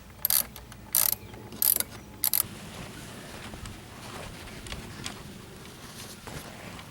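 Ratchet driving screws back into the power steering reservoir of a 2005 Dodge Grand Caravan SXT, heard as four short, crisp bursts of clicking near the start over a steady low background hum; no talking.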